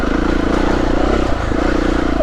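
A Beta 390RR dirt motorcycle ridden along a green lane, its engine a loud, steady close-up pulsing drone throughout a short stretch.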